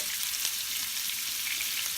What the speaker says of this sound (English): See, when it's sizzling like this, it means they're going to be very good.